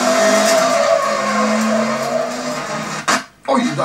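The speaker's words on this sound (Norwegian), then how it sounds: "Og Camilla får seg en ordentlig smell." Rallycross cars at Lyngås race with engines droning and tires skidding loudly, then a sharp crash impact breaks through near the end, followed by a brief drop and renewed engine noise.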